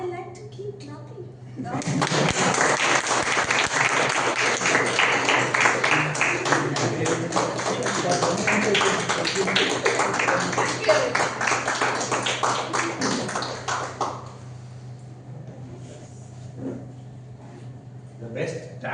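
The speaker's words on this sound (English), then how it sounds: "I like to keep clapping." A Toastmasters meeting audience gives a sustained burst of applause that lasts about twelve seconds and then fades to scattered claps, with murmuring in the room.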